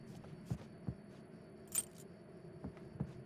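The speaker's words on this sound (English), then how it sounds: "Yeah, just take those keys from you." Keys jangling in Alan Wake's American Nightmare video game, several faint metallic clinks and rattles spread unevenly over a quiet background.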